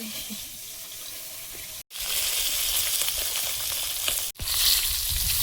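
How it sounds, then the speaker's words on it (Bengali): Live fish fry in a pan until light brown, hissing and sizzling steadily at close range, with two brief silent breaks and no talking. "জ্যান্ত মাছ একটু হালকা করে বাদামি রং ধরে ভেজে নিয়েছি"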